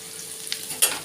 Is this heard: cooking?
yes